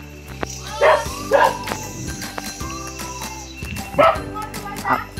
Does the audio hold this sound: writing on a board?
no